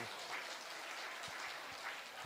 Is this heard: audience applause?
yes